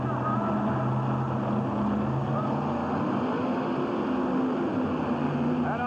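Drag-racing boat engines rev at the starting line of a 1989 Indianapolis race, a steady loud droning roar under an announcer's continuous commentary.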